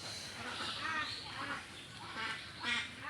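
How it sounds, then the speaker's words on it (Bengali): Village ducks kept at a pond quack in repeated short bursts at moderate distance, several calls overlapping in an uneven rhythm against faint background noise. "এই যে আমার এখানে চাচি শাশুড়ি হাঁস ডাকতেছে"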